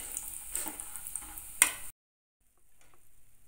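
Lentil dumplings (bori) fry in oil left over from frying small tangra fish, giving a close, crackling sizzle with a sharp stirring clatter before the sound cuts abruptly to near silence.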